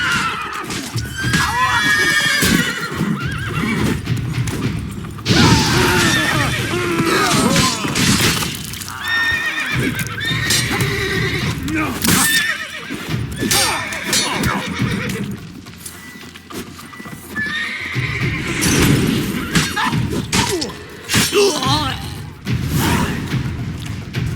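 Horses neigh and whinny repeatedly with clip-clopping hooves and dull thuds, loud and continuous throughout in the video game The Witcher 3: Blood and Wine, with occasional voices mixed in.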